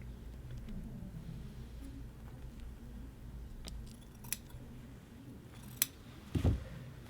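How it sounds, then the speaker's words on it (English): Scissors trim the interfacing on a men's shirt collar band, giving a faint, sparse snip or two with a small handling clack near the end, close-up and quiet, with no talking. "lay your scissors on their side right against that interfacing so that you don't cut anything but the interfacing, and trim that interfacing to 1/8 of an inch"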